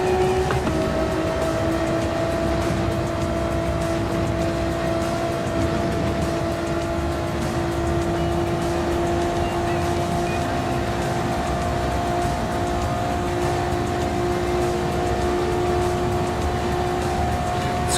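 A Super GT race car engine in a racing video game holds a steady, loud, high-pitched drone through a flying lap, with pitch shifts as it climbs through the gears and no talk.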